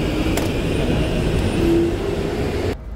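Train rumbling steadily as it pulls out of a station in the Czech Republic, a continuous low, close roar with a faint tonal whine, ending abruptly.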